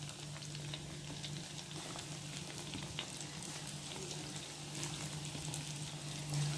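Batter-coated vegetarian chicken deep frying in hot oil gives a steady, dense sizzle and crackle, close and continuous with small popping bursts throughout, alone without speech.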